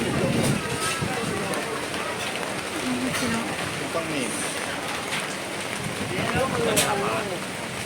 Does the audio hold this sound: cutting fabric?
no